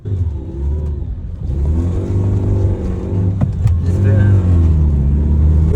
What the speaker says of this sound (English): your car is making some sounds